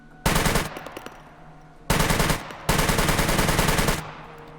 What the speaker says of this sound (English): Okay, that was burst fire.